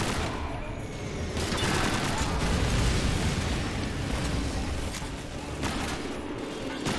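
Continuous gunfire from a Call of Duty 2 battle, a dense unbroken roar of shots and explosions at steady loudness with no clear gaps, plus faint background voices.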